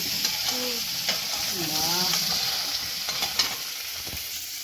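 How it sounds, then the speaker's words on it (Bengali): Potatoes frying in a pan give off a steady, close sizzle, and a utensil stirs and scrapes through them with a few clinks. Brief faint voice-like tones show early on, with no clear talk. "আলু ভাজা চলছে সুইটি"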